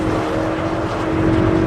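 A 2013 Ford Focus ST hot hatch pulls hard under acceleration, a loud, close, steady engine drone with a strong low hum and no voices.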